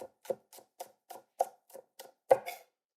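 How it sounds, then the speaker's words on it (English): Knife slicing green onions on a cutting board, about ten crisp, evenly spaced chops close by, with no talking. "when you're cutting any herb or green onions, you want to make sure you're slicing and moving, not straight down"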